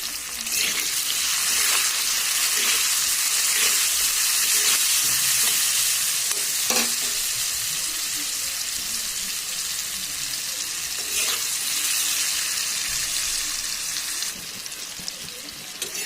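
Pumpkin pieces fry in oil with a steady, loud sizzle and crackle, with occasional scraping stirs over the continuous hiss.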